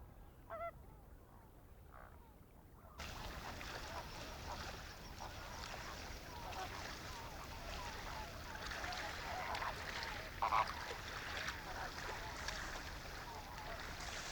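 A coscoroba swan calls in Torres del Paine park in Chilean Patagonia, giving a few short honking notes that stand out over a steady wash of wind and water, heard at moderate distance.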